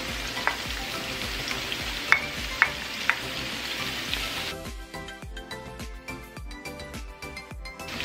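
Mushrooms and onions frying in a pan for jjampong: a constant close sizzle with a few sharp pops and utensil taps, shifting to a busier crackling, stirring sizzle midway as the onions go in.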